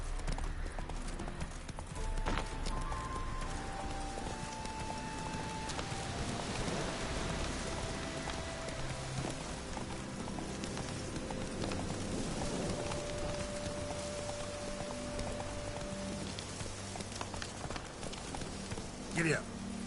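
Galloping horse hooves in The Witcher 3 video game, a continuous rapid clip-clop under rain-like game ambience and music, with a rider's voice calling out over it.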